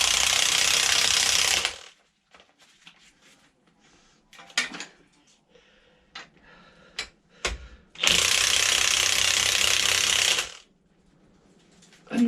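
A ratchet tightening a spring compressor on the front strut of a Citroen C4 Grand Picasso, heard as two loud sustained bursts of rapid clicking with scattered metallic clinks and taps between them.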